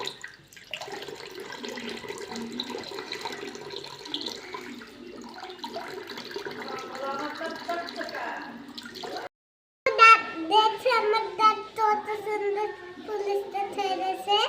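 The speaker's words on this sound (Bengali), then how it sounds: "হ্যাঁ বেশি করে কুলকুচি করো এবার ফেলে দাও" A small child rinses the mouth after brushing teeth and spits water out, with splashing and a running tap at a sink, then clearer spits and gurgles after a short pause; an adult voice speaks faintly alongside.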